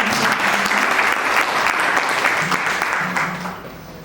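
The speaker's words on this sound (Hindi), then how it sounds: "एक बार जोरदार तालियां हो जाए।" Loud, dense applause from an audience at a retirement farewell function, sustained with faint voices mixed in, then tapering off toward the end.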